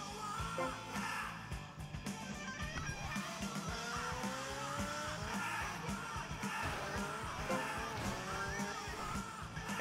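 Motorbike braking and skidding in the video game GTA: Vice City, a loud continuous stretch of engine roar and tire screech with rising tonal sweeps, mixed with game effects and busy background noise.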